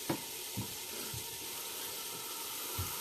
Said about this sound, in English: So let me just fill this up with water.